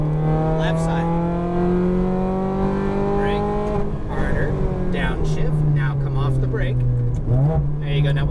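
A Ferrari F430 on a track, its engine droning steadily under throttle then climbing in pitch as it accelerates, loud and close inside the car, with an instructor talking over it.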